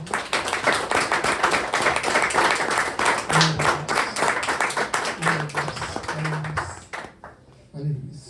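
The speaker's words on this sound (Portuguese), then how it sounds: "Então você pode dar uma salva de palmas para essa palavra." A church congregation applauding, a dense sustained run of many hands clapping at close range that thins out near the end, with voices calling out over it.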